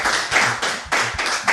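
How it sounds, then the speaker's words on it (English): An audience claps steadily in a dense burst of applause for a guest at an interview, with a few louder surges of clapping rising and falling throughout. "A round of applause again,"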